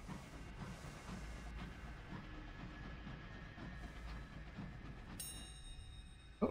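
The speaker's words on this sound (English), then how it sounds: "This locomotive's got some kick." Locomotive running in a video game, a continuous rumbling rail clatter with steady hiss, moderately loud and unbroken, ending with a brief sharp tonal burst.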